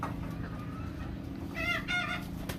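Roundhead gamefowl chickens cluck softly at feeding time, a low bed of farmyard noise before a couple of sharper, louder calls rise near the end.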